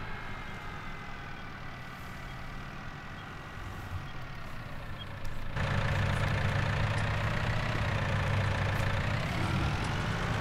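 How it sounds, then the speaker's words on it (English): Tractor engine from Farming Simulator 19 (6M model) running steadily at idle, a continuous low rumble that grows slightly louder and fuller partway through, with no talking. "I quite like the 6M, although it does seem to idle for quite a while when you first accelerate"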